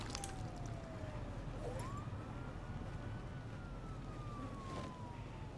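A police siren in a video game wails slowly up and down at a distance, faint and steady over a low background rumble, with no talking.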